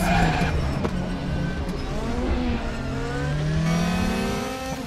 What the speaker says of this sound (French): On libère les chevaux dans la ligne droite des stands et on entame notre tour rapide